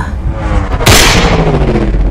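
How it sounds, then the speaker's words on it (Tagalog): A gunshot sound effect in a horror audio drama, one sharp loud boom partway through with a short ringing decay, heard alone without talk. "napayuko si Atan sa putok ni Atong."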